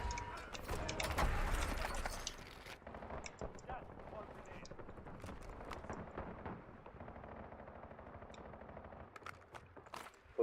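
Gunfire in the Warzone battle royale game, with a loud burst of rapid shots at the start, then scattered distant cracks and pops continuing under ongoing noise.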